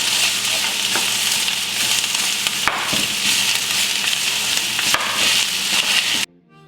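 Sausage frying in a pan for a zucchini pie, a steady loud sizzle with occasional stirring scrapes and clicks, continuing alone without talk until it cuts off abruptly near the end.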